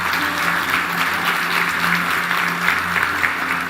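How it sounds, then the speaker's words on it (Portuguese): A church congregation applauds during a sermon, a dense, steady burst of clapping from many hands that carries on evenly for a few seconds with no voices over it. "Você pode aplaudir o Senhor?"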